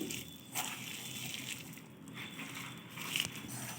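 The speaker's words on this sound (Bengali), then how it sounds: "খুব ভালোভাবে চেপে চেপে আমি মেখে নিচ্ছি" Hands squeeze and knead chopped vegetables with flour for veg Manchurian, making soft, wet squelching and crunching sounds in irregular presses, quiet and close, with no talking.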